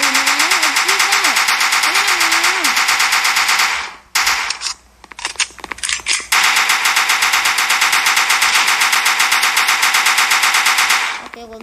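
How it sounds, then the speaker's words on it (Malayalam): Rapid automatic gunfire from a video game rattles loudly in sustained bursts, breaking off briefly midway into scattered shots before resuming as continuous fire; faint voice-like tones sound early on. "ഓക്കെ വെടി വെച്ച് കൊള്ളുന്നു."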